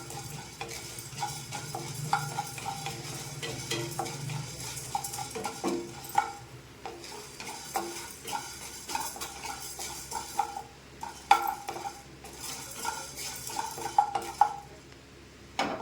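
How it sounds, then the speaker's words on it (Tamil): About 25 grams of urad dal roasting in a pan: a spoon scrapes and stirs steadily against the metal with repeated clinks, over a faint dry sizzle, close and fairly quiet. "இப்போது பருப்பில் உளுந்தம்பருப்பு ஒரு 25 கிராம் வறுத்துட்ருக்குறேன்"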